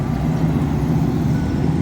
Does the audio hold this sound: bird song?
no